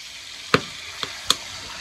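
Fish coated in turmeric, chili and salt frying in a pan: a steady, fairly quiet sizzle broken by three sharp pops, the first the loudest.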